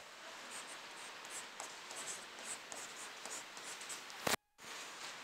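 Pen writing notes on paper: a faint, steady scratching of continuous handwriting, close and quiet, with brief soft strokes and no talking.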